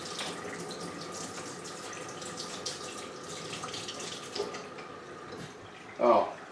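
A kitchen faucet runs steadily while a brewing wand is rinsed during home beer making, a continuous watery hiss with a brief louder splash near the end.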